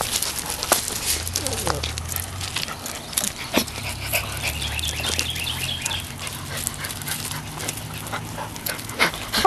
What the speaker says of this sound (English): Got all the puppies playing!